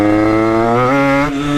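Motorcycle engine, still being run in, revving hard as the front wheel lifts without the clutch, a loud close harmonic roar climbing steadily in pitch, then dipping briefly near the end before holding.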